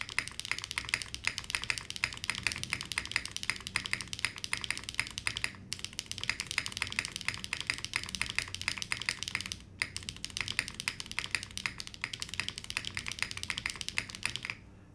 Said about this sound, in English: Wow, the typing experience is really, really soft.